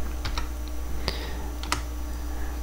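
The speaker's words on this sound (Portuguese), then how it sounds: "Digita as primeiras letras da pasta." Sparse keystrokes on a computer keyboard while entering commands in a Linux terminal, a few isolated clicks over a steady low hum, close and fairly quiet.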